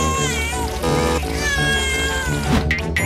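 A cartoon cat meows repeatedly over bright background music in a children's cartoon, the calls loud and close with a brief splash near the end.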